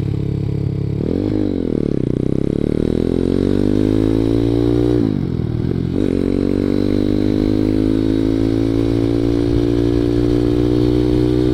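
A ZS 190cc Honda Grom clone motorcycle rides along a country road, its engine loud and close throughout, revving up in rising sweeps, easing off briefly around the middle, then pulling steadily again.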